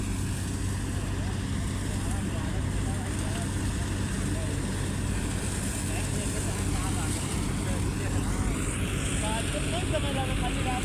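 A Swaraj 834 XM tractor engine runs with a steady, loud diesel chug and rumble that holds constant throughout, while people talk faintly underneath.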